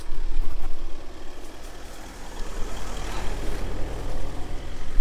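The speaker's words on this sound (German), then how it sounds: "Oh, Auto kommt." A motor vehicle comes up a narrow residential lane, its engine rumble growing close with a low drone and some road noise, no talking.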